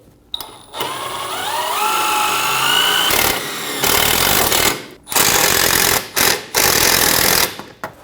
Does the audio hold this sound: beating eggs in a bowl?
no